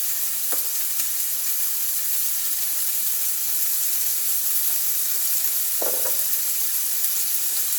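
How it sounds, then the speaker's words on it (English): A pot of water at a rolling boil for spaghetti, a steady loud bubbling hiss that never lets up, with a couple of faint knocks from the pot or utensils. "you see my water's boiling"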